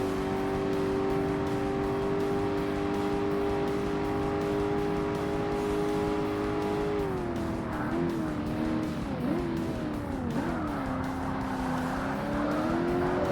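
Race cars lapping in Forza Motorsport on Xbox, with a Ferrari and a Corvette in a sports car event, engines holding a steady loud drone, then shifting pitch and wavering through corners with faint tire squeal, continuous throughout.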